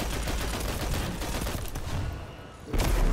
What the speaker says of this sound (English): Throw a grenade down there, see if I can put some work in that way.